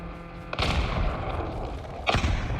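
Gunfire from the mobile shooter Call of Duty Mobile, played in first-person mode, comes as two loud, booming bursts, one early and one near the end, with steady game ambience between and no talk.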